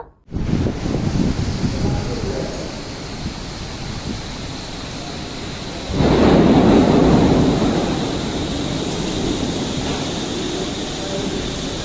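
Dense, roaring rain pours steadily with gusting wind, swelling noticeably louder midway and staying heavy throughout, with no voices.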